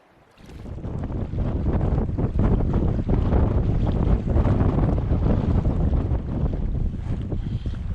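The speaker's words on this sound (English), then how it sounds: "We thought the wind died down a bit, and I think it did, but nonetheless it's still pretty wavy and there's still whitecaps everywhere." Wind sweeps over wavy Harmon Lake, whipped into whitecaps, a loud steady rush that builds after a quiet first half-second and batters the microphone, with waves splashing beneath and no talk.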